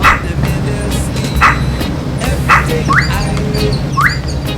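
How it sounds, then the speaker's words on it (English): A dog barks repeatedly in short, spaced yips into a boat's bathroom through a port, ringing with a strong hollow echo as in a small hard-walled room. "she put her head down the port into one of the bathrooms and barked"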